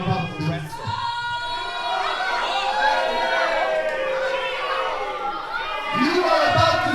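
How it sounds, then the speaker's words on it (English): Crowd at a Future Pro Wrestling event jeering wrestler David Francisco, a dense continuous roar of many voices with shouts and boos, loud and sustained throughout, mixed with nearby voices. "Crowd letting their feelings known to David Francisco."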